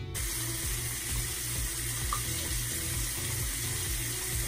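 Water runs steadily from a tap into a sink while someone washes their face, a constant close rushing flow with no pauses and no talk over it.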